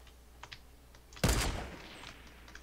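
A single gunshot in the video game Fortnite, a sudden loud blast that decays over a fraction of a second, set against faint clicking from a keyboard or controller.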